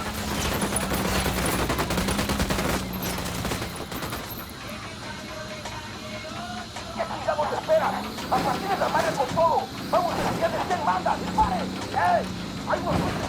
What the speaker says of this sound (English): Switch to suppressors. Fire. Wilco, firing.